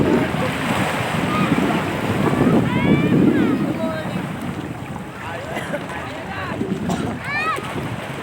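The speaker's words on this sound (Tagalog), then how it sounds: "Natatakot nga siya sa alon kasi ang lalakas daw ng alon." Strong ocean surf washes and rolls at Pundaquit beach in Zambales, mixed with wind buffeting the microphone, while voices chatter over the waves.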